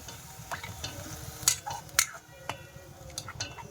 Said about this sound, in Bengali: রস দিয়ে ভালোভাবে নাড়াচাড়া করব